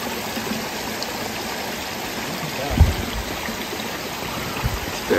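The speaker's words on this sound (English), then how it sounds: "A little babbling brook." A small babbling brook with a mini waterfall flows in a steady, even rush on a very wet day in Norway, with a couple of brief low knocks breaking the constant water noise.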